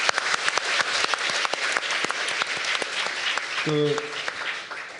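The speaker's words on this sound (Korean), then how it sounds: "우리 웬디 크래커 교수님께 다시 한번 큰 박수 부탁드리겠습니다" An audience at the 2018 Jeju international education symposium gives Professor Wendy Cracker a big round of applause, steady, crisp clapping from many hands, with a brief voice rising over it near the end.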